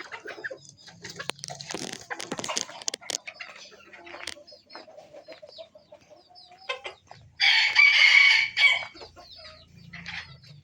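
Hens cluck and squawk in scattered bursts, then a bantam rooster crows loudly nearby for about a second before clucking resumes.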